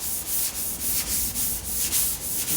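Hand sanding primer on a Porsche 356 body panel with a sanding block, rhythmic back-and-forth rasping strokes, about eleven in quick succession, close and loud with no talking.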